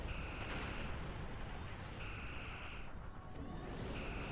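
Twin phasers and photon torpedoes fire in Star Trek Online space combat, a dense, loud, continuous barrage of whooshing beams and booming impacts with repeated sweeping tones throughout.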